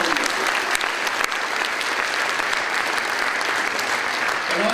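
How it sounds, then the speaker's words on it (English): Steady applause from a crowd at a congressional ceremony, dense clapping that holds at an even level throughout. "how about another round of applause for our chairperson"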